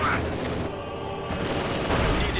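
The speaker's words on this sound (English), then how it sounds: "penal troops instead running straight into the Panzer camp back here, unleashing hell with his machine guns" Machine gun fire in Company of Heroes 2 as penal troops charge a Panzer camp, loud rapid bursts layered with battle noise and booms, with a voice talking over it.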